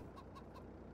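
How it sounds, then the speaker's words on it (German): Chickens cluck in the Farming Simulator 22 video game, several short repeated clucks over a steady, dense background of farmyard noise. "das sind unsere Hühners"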